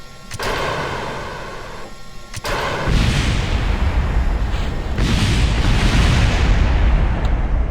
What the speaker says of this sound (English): it fires rockets and everything.